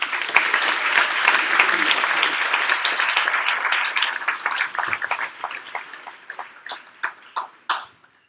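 Audience applause greets the first debaters at an MSU three-way student debate, full and dense at first, then thinning into scattered individual claps that die away near the end.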